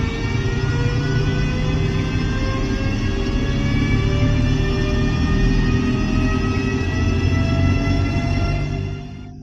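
A 12,000-horsepower freight locomotive works hard with a loud, sustained engine roar and a rising whine that keeps climbing, steady and close, before it fades slightly at the end, with no talk.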